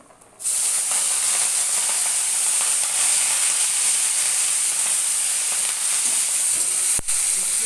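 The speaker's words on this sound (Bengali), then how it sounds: "দুটো তিনটে কাঁচা লঙ্কা দিয়ে দেবো। এখানে আমি এই যে শাকটা দিয়ে দিচ্ছি।" Greens and green chillies dropped into hot oil, setting off a sudden loud, steady hiss and sizzle that carries on for several seconds, close up with no voices.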